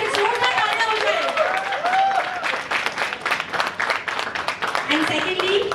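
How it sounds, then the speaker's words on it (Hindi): An audience at a music album launch event bursts into lively applause and claps on, with voices and cheers rising over the dense, fairly distant clapping. "एक बार जोरदार तालियां हो जाए।"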